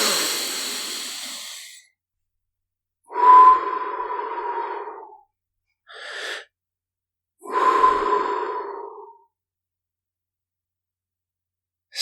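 Slow, calm breathing in a quiet children's guided meditation: three unhurried breaths, each a soft audible inhale or exhale separated by long silent pauses, close and alone.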